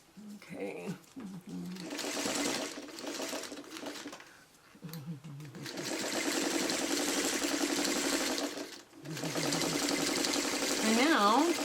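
Sewing machine stitching a quilt block, rapid steady mechanical whirring in several runs with brief stops, close and clear, while someone talks over the start and between bursts.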